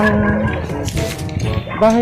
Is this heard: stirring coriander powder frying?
no